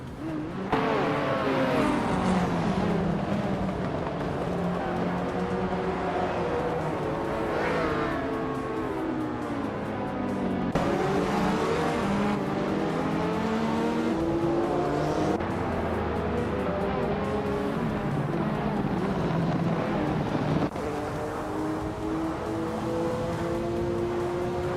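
Race cars in a racing video game roar past one another, engines revving and whining through rising and falling pitch sweeps with repeated gear shifts, a continuous loud layered drone of several cars throughout.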